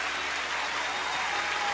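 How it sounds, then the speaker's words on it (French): Television talent show audience applauding in a dense, steady wash of clapping, loud and continuous without gaps. "On les applaudit, on les applaudit."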